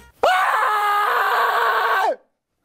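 A person screams as loud as possible, a single sustained, piercing cry lasting about two seconds that starts abruptly and cuts off into silence.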